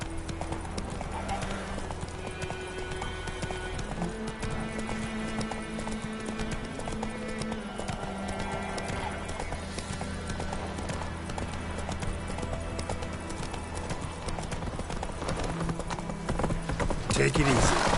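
Horse hooves clip-clopping steadily in The Witcher 3 while riding, a continuous rhythmic trot over a dense bed of game ambience and music, with talk layered over it.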